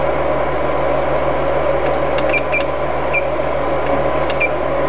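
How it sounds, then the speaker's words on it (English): A hot air rework gun set to 450 degrees blows steadily while reflowing a chip on a T17 cryptocurrency mining hashboard, giving a constant close hiss and hum with a few faint electronic beeps. "Make sure my hot gun temperature is set to 450."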